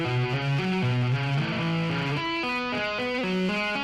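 A distorted electric guitar plays a quick, even pentatonic-box run of tapped notes that climb and repeat in a tight pattern, sustained and fairly loud.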